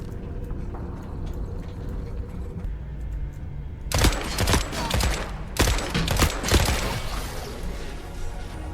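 In the video game The Forever Winter a grenade launcher fires, bringing loud bursts of explosions and crashing blasts in the second half over a steady rumbling battle background.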